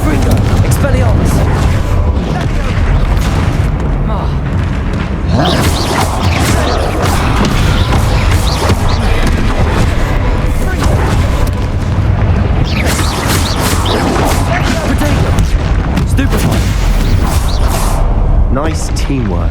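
Bombarda and Confringo spells explode during a troll fight in Hogwarts Legacy, loud booming blasts and crashing impacts repeating densely over the whole stretch amid battle noise, with voices calling out over them.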